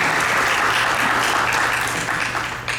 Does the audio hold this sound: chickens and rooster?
no